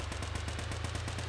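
Machine guns mounted on a built vehicle in the game Scraps fire a rapid, even stream of sharp shots that carry on throughout without pause.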